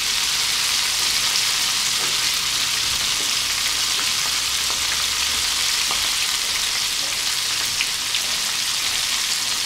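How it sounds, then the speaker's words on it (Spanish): Squid rings deep-frying in hot oil, a steady dense crackle and bubbling sizzle with scattered sharper pops, close and continuous throughout, with no voices. "No hay que molestarlos, ellos solitos se van dorando, se van cocinando. Así los dejamos hasta que ya deje de burbujear."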